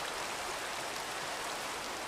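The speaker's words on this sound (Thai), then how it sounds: "อุ้ยฝนตก" Steady rain in a Minecraft game hisses evenly throughout, a dense broadband wash with no breaks and no voices.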